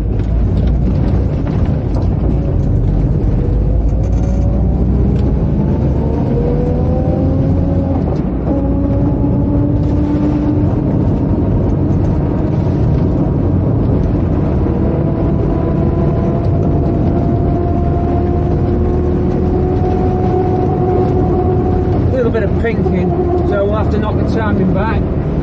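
A Mark 3 Ford Cortina with a Pinto engine accelerates along a road, its engine note rising steadily through the gears as a loud, continuous drone with road noise underneath.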